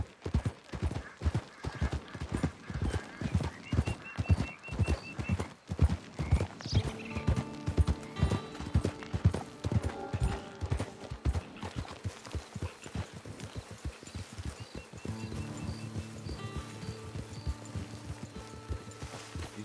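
A horse gallops in the online Western game Red Dead Redemption, its rapid clip-clopping hooves pounding in a steady, close rhythm throughout, with a short whinny and faint game music tones layered underneath.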